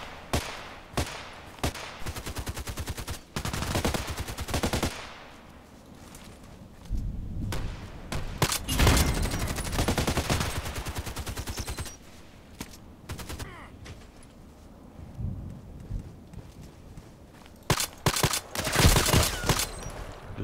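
Gunfire from a first-person shooter video game rings out in sharp bursts and rapid automatic volleys, loud and close, broken by brief lulls and a few heavier thuds.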